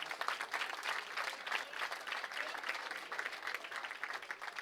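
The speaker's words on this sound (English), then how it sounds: "Please give them a round of applause." An audience at a junior bowling championship awards ceremony applauds its individual award winners, a steady, dense round of clapping that holds at an even level for several seconds with no talk over it.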